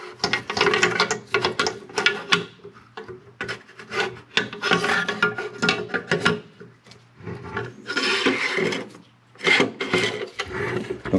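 Metal parts scrape and rasp as a bolt carrier group is slid into an FN SCAR 17S rifle. Close, repeated grinding strokes come in bursts with brief pauses between them.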